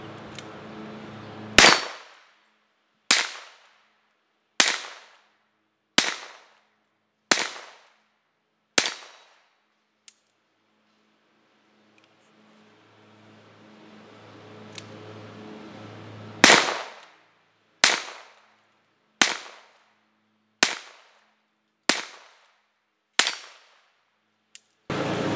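Two Ruger Blackhawk single-action revolvers firing .38 SWC bullets outdoors, a steady string of about six sharp loud shots, a pause with faint background rumble, then another rapid string of about seven shots.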